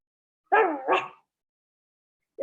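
A voice imitates a dog, giving two quick close barks in a row before falling silent.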